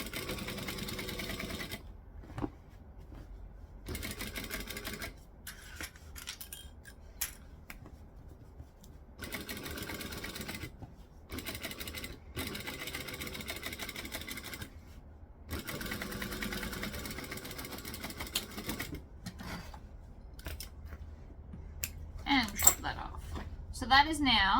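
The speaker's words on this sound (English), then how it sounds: "I'm going to fold the vinyl down and stitch on the spider fabric" A sewing machine top-stitches folded vinyl onto spider fabric at a long stitch length while a Vixen bag, enlarged to 150%, is sewn; steady mechanical whirring comes in bursts of several seconds, separated by pauses and small handling clicks.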